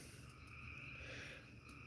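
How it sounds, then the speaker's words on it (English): Frogs croaking outdoors at night, a steady dense chorus at low level with a continuous high insect-like trill layered over it, no voices. "let's just have a moment of nature bath here. Let's just listen to frogs for a minute."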